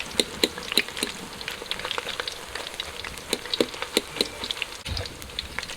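Mushroom pieces deep-frying until crisp in hot oil for a Thai glass-noodle salad give a steady close crackling sizzle, dotted with sharp pops and light taps of a utensil, with no talking.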